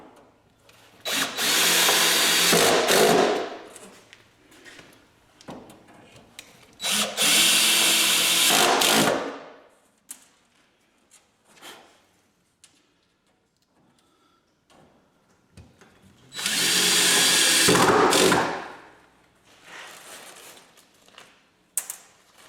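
Power drill driving sheetrock screws, three loud bursts of whirring motor and grinding screw bite, each lasting a few seconds, separated by quieter gaps with small clicks and handling noises.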